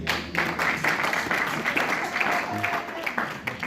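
Church congregation applauding the Lord during a French-language service, steady sustained clapping from a crowd that runs throughout, with voices faintly mixed in.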